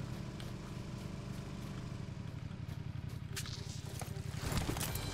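A motorcycle engine in the video game PUBG: a steady, fairly faint rhythmic putter that rises slightly toward the end, with no talk over it.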